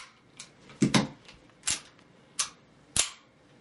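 A KWA M9 PTP airsoft pistol fires several sharp, snappy cracks spaced irregularly about a second apart, with a few fainter mechanical clicks between them; no talking.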